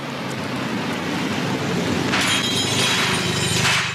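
Glass shatters in a German radio crime drama about a night-time break-in, a broad, noisy crash with a bright burst of shards spreading over the last two seconds, loud and close with no voices.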